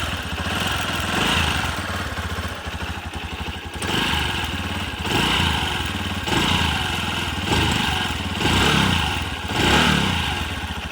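A rebuilt motorcycle engine runs close by with a steady chugging idle, its loudness swelling and dipping in slow surges.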